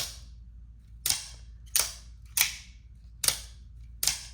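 Five sharp, loud spring-powered shots from a gen 3 combat Troodon toy blaster, each a crisp snap with a short decaying tail, spaced roughly 0.6 to 0.7 seconds apart over a low steady hum.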